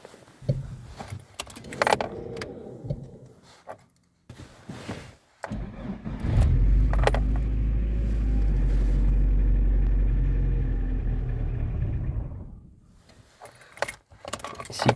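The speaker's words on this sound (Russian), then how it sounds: "Сейчас запущу. Послушайте," A VAZ 2112 car engine, close by, cranks with a clatter and key rattle, then catches and idles loudly for several seconds with an uneven, fluctuating rumble before cutting off.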